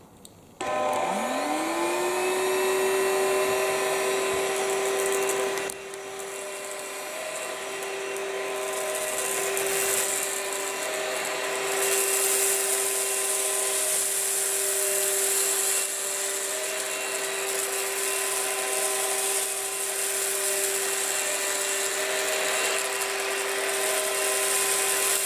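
A BlitzWolf BW-AR182 cordless handheld vacuum whirs up from silence into a steady high-pitched motor whine, running continuously and loud close by, with airflow hiss shifting slightly over time.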